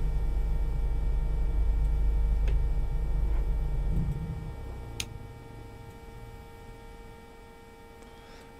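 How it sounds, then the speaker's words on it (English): Fuel pumps in a Carenado PA34T Seneca V twin-engine aircraft in Microsoft Flight Simulator 2020 tick steadily over a constant electrical hum, with low cockpit rumble fading midway. "Fuel pumps."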